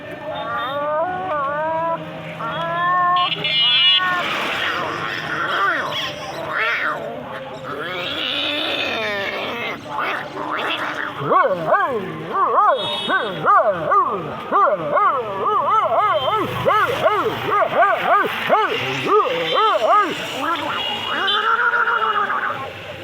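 A human voice imitates a dog and a cat fighting, with growls, yowls and rapid barking yelps, loud and continuous for over twenty seconds.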